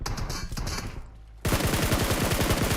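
Rapid automatic gunfire in PUBG Mobile, a fast steady stream of close, loud shots that bursts in after a brief lull, preceded by scattered fire and game noise.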